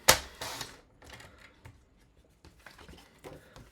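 A paper trimmer slices scrapbooking paper in a sharp opening stroke, followed by softer sliding and handling noises of the blade and sheet, close and quiet with no talking.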